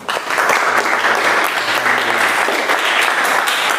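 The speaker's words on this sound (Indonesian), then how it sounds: "Mas Rifki, kita beri tepuk tangan ya." Classroom applause for a student who found the research problem, a group of pupils clapping loudly and steadily in a small room, with a faint voice briefly underneath.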